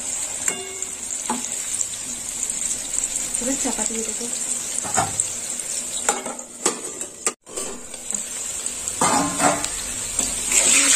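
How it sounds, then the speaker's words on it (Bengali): Potato and pumpkin pieces sizzle in hot oil in a pan, a steady bright hiss punctuated by clinks and scrapes of a utensil turning them, with a person speaking briefly over it. "লাল লাল করে আলুগুলো ভাজা হয়ে যাবে, আর কুমড়োটাও এর সাথে লাল লাল করে ভেজে নেব।"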